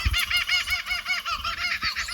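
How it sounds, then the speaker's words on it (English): Kookaburras calling in the background at a country campsite in Bolivia, Northern NSW, a continuous rapid chorus of repeated cackling notes, loud and steady. "We've got kookaburras going in the background."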